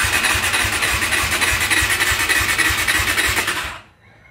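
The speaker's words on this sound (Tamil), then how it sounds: "இப்போ செல்ஃப் அடித்தா அடிச்சிட்டே இருக்குது, பட் ஆனால் வண்டி ஸ்டார்ட் ஆகலை" A KTM 390 Adventure motorcycle's self-starter cranks steadily in a rapid, even rhythm without the engine catching, loud and close, then cuts off abruptly near the end.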